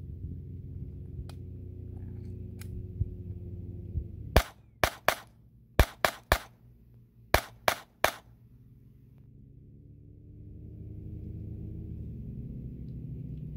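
Gunfire at the Quartzsite shooting range in Arizona during target practice: a string of about eight sharp, loud shots, several in quick pairs, ringing out over a low outdoor background rumble.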